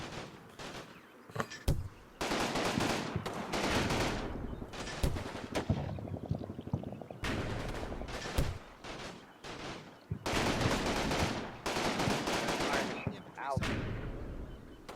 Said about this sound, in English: Just keeping that MG firing.